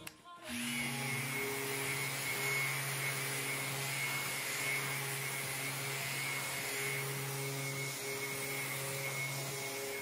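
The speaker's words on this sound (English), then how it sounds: "let's fire up the sander and get some of this finish cut down so we can get to the bottom of these pits" A power sander runs steadily with an even whirring hum for nearly ten seconds as it cuts down the finish on a pitted wood surface.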